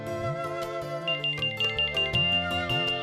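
Telephone ringtone in a Hindi TV serial scene, a melodic electronic tune with steady repeating notes, fairly loud and alone with no talk.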